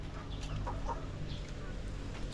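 Rhode Island hens in a backyard coop, soft repeated clucking and low chatter close by over steady background noise, with faint voices in the area.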